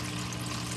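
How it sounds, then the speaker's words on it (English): Water from an aquarium overflow box drains down a tube into a sump tank holding bio balls, a steady, close rushing pour with no pauses. "the overflow box drains water down this tube"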